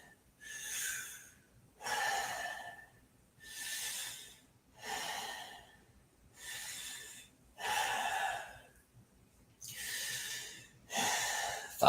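Slow, deep breaths during yin yoga recovery for jiu jitsu, about seven even cycles of loud airy inhales and exhales close to the mic with short quiet gaps between them, and no talk.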